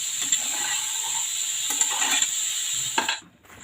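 Kantoli vegetable sautés in oil with cumin and onion, a loud, close, steady sizzle with scraping stirs breaking through, cutting off abruptly near the end.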